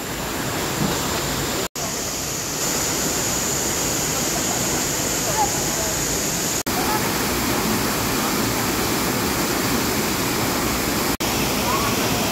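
Steady, loud roar of Bukal Falls in Majayjay, Laguna, a broadband rush of cascading water filling the whole scene with only brief dropouts.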